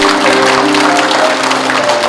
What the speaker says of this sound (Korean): 저희 광나일고 전용준 대표 이사장님께 다시 한번 뜨거운 박수 부탁드리겠습니다